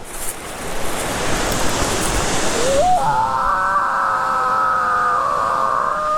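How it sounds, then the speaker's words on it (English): A waterfall at Laurel Valley along the Foothills Trail in South Carolina gives off a constant, close roar of falling water. Thin, sliding whistle-like tones rise over the rush midway through. "Yeah, that's a pretty cool waterfall"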